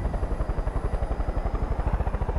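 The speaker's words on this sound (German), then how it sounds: "Ein roter Hubschrauber steht da." A red helicopter in Far Cry 5 gives a steady, fast rotor thump with a low whine, loud and close throughout, with no voices.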